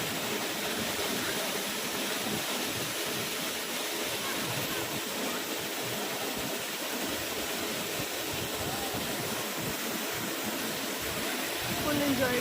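A waterfall pours down with strong pressure, giving a steady, loud, broadband roar throughout, with faint voices mixed beneath it.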